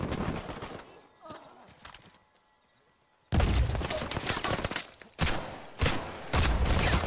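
Bursts of rapid gunfire in the video game Uncharted 4 online, loud and dense, with a quieter gap in the middle before heavy shooting resumes in several blasts.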